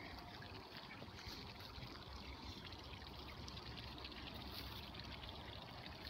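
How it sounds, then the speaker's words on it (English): A small waterfall trickles into a woodland stream, producing a faint, continuous wash of splashing water with no distinct breaks or voices. "See the little baby waterfall."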